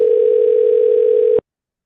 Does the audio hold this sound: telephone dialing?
yes